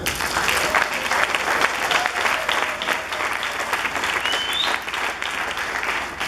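A church congregation applauds during a sermon, producing steady, dense clapping from many hands in a reverberant hall, continuous throughout with a faint voice underneath.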